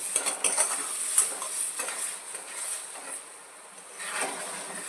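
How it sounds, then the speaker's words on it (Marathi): Boiling saffron milk poured onto semolina roasting in ghee in a hot pan, a loud hiss and sizzle, alongside scraping and stirring of a utensil against the pan. "आता आपण थोडं थोडं करून याच्यामध्ये केसर घातलेलं दूध टाकत आहोत"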